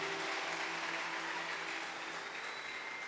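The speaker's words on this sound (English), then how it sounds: "Shall we clap for Jesus?" A church congregation claps together during a worship service, a brief steady patter of many hands heard at low level and somewhat distant, with a faint tonal hum underneath.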